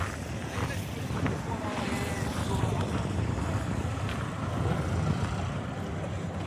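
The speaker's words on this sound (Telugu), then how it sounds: "ఇదే హార్బర్, కృష్ణాపట్నం హార్బర్" Ambience at Krishnapatnam fishing harbour, where fishing boats are moored: steady wind rumbles against the microphone under a broad wash of water and distant boat engines, with a voice speaking at times.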